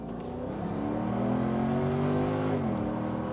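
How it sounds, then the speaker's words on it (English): A Mercedes-Benz SLK55 AMG engine drops through the gears from fourth to second, its drone falling and rising with each shift, loud and close throughout. "Let's go down the revs, fourth, third, second."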